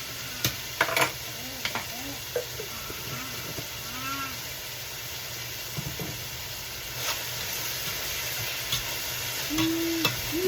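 Chicken curry ingredients sauté in hot oil for a country chicken curry, a steady crackling sizzle with occasional scrapes and clinks of a stirring spoon against the pan, and a few faint background sounds.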